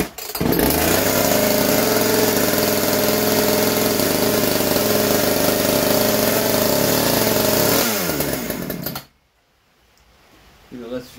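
A ported chainsaw engine, either a Stihl MS170 or a Poulan PN3414, runs loud and close with a steady buzzing drone for about eight seconds, then wavers and cuts out, leaving near silence.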